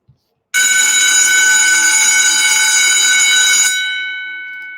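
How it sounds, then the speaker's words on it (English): A loud electric school bell rings continuously for about three seconds after a brief silence, then cuts off, leaving a fading hum. "Let the bell ring."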